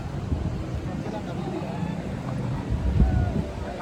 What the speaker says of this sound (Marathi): चला आता आपली बोट इलेली असा.